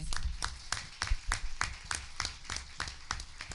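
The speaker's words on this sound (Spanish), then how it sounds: "les pido que le hagamos un aplauso" An audience at an official ceremony creating specialized secretariats for gender violence cases claps in a steady, rhythmic beat, fairly faint and distant, with no talking over it.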